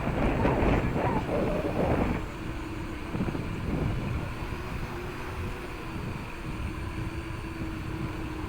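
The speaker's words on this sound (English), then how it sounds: "So you can hear the wind there." Wind rushes steadily past an FPV model aircraft in flight, louder for the first two seconds then settling into a softer continuous hiss with a faint motor whine beneath.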